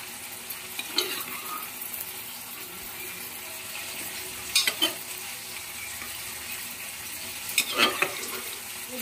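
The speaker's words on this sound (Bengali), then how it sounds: "আলু আর এঁচড়টা একসঙ্গে ভালো করে কষিয়ে নেবো আবার মশলার সঙ্গে।" Potato and jackfruit stir-fried with spice paste in a pan, a soft continuous sizzle broken by a few sharp stirring scrapes and clatters, no talk.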